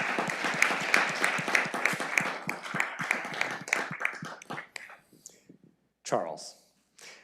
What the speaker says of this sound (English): we give her a big round of applause.